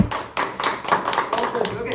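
Hands clapping in an informal group during a Bengali blog-competition prize announcement, a few irregular claps mixed with overlapping talk throughout.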